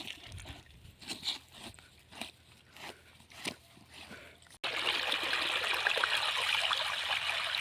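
Irregular knocks and splashes, then a sudden steady rush of water pouring out of an opened pipe lid on a farm irrigation line, continuous and fairly close.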